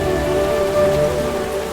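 Heavy rain pours down steadily in a dense, continuous hiss of drops on surfaces, with a low rumble underneath and no voices.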